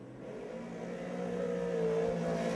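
Modified race cars on a quarter-mile speedway roar down the back straightaway, a steady, loud engine drone that swells slightly as the pack draws nearer, with no talk over it.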